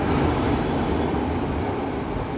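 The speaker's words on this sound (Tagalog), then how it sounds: "Pasensya, maingay yung LRT." A steady, loud rumble of a passing LRT light rail train fills the whole stretch, a dense low roar without breaks.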